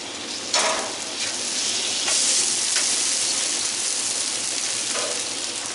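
White Castle-style sliders with bacon sizzle loudly and steadily on a hot griddle, with a brief scrape as a patty is flipped early on and no talking.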